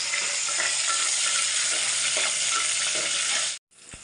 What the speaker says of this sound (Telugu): ఉల్లిపాయ పచ్చిమిరపకాయ బాగా నూనెలో వేగనిద్దాం.